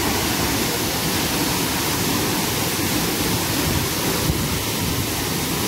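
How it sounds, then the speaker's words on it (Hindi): Dhangar waterfall near Badlapur and Kondeshwar temple roars as a loud, steady, broadband rush of falling water, constant and close, with no voices over it. "आप खुद ही देख लो कि वाटरफॉल कितना झन्नाटेदार है"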